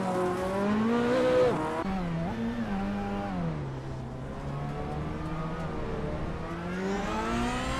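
A Group B rally car, a Peugeot 205 T16 Evo 2, races in a video game. The engine roars loudly and continuously, its pitch rising and falling through revs and gear changes as it drives, with a brief tyre hiss.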